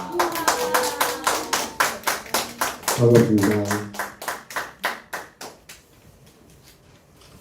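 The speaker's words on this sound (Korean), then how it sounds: "우리 박수로 한번 우리 회장님을 맞아 보겠습니다" A small audience claps to welcome a speaker at an expo lecture, about twenty distinct, evenly spaced hand claps that fade out toward the end, with a man's short greeting partway through.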